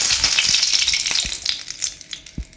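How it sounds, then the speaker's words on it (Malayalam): Coconut oil sizzles loudly in a hot pan while koottu curry is prepared for an Onam sadya, a bright continuous hiss with a few sharp crackles and spatters. The frying gradually settles toward the end, and nobody speaks. "ഞാൻ വെളിച്ചെണ്ണ ഒഴിക്കട്ടെ."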